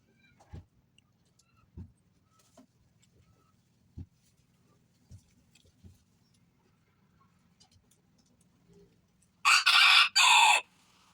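Several faint clucks and taps scattered through quiet, then a small bantam rooster crows loudly near the end in two bursts.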